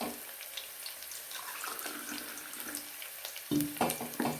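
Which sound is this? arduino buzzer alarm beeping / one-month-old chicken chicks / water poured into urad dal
water poured into urad dal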